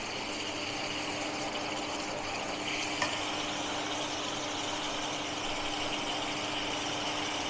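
Ginger garlic paste frying in a pan, a steady, soft, hissing sizzle that holds evenly throughout with no other sounds.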